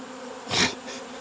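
A single close buzz of a honey bee swells and fades within a second over a steady low hum.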